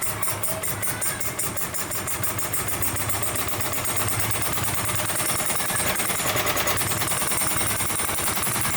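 A RETROL G16 model engine runs steadily with a rapid, loud, rattling buzz that holds at an even pace throughout, with no voices.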